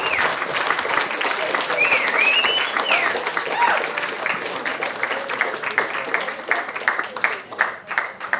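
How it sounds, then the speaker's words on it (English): Wedding guests clap for the best man in a lively, continuous burst, with whoops and crowd voices mixed into the steady applause. "Big round of applause for our best man"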